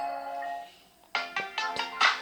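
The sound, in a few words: alarm sound on Samsung Galaxy A15 5G phone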